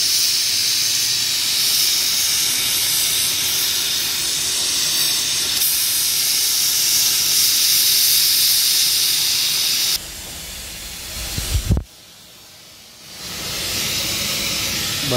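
Gas welding torch hissing steadily and loudly on an aluminium plate, a continuous broadband rush for about ten seconds, then a brief drop and sputter before the hiss resumes more quietly.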